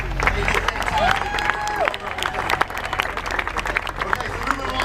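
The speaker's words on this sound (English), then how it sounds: "One more round of applause for the crankers there." Applause and crowd noise fill an outdoor award ceremony after a half marathon, with steady clapping and chatter throughout and a few voices rising above the general din.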